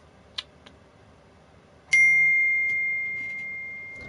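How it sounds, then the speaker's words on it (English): A phone notification tone sounds while a Dark Souls 2 game plays: a clear electronic ding rings out and sustains, fading slowly, preceded by a couple of faint clicks. "Sorry, that's my phone."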